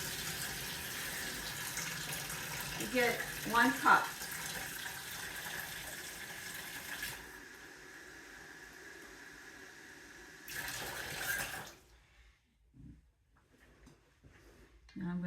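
Cold water runs from a kitchen tap into a measuring cup, a steady close splashing stream that stops, resumes briefly, then cuts off, while a person talks over it.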